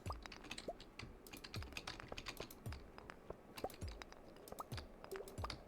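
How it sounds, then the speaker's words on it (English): Rapid, faint mouse and keyboard clicking during a Stardew Valley session, irregular bursts of light taps close to the mic with no talk. "If you can hear me just like rapidly clicking"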